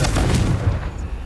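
A Confringo blasting spell in Hogwarts Legacy explodes as one loud, booming burst that rumbles heavily in the lows and fades out over about a second.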